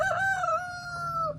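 A backyard rooster crows loudly and close, one long sustained cock-a-doodle-doo call that falls away at the end, amid a flock of kept chickens.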